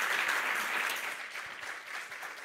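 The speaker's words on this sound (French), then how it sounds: "Je crois qu'on peut vous applaudir pour tout ce que vous faites." An audience at a round-table forum applauds in a sustained, steady wash of clapping. The sound is moderately distant and fairly quiet, with no talk over it.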